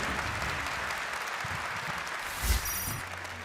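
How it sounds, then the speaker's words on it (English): Steady applause from a crowd at a GT World Series motor racing final, a soft even patter of many hands clapping at a distance, continuing without pause. "Let's give him a round of applause."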